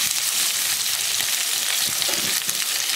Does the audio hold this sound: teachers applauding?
no